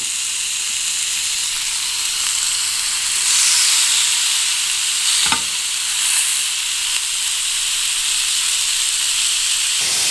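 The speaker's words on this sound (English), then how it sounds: "The grill pan is hot, so I'm gonna put in the ostrich steak." An ostrich steak sizzles loudly and steadily in a hot grill pan, a bright continuous hiss with a short swell partway through and a single sharp tap, no voices over it.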